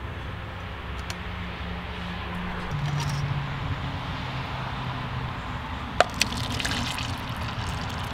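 Whiskey poured into hot chocolate on a stovetop, a steady close liquid trickle over low background hum, ending with a sharp clink of a container.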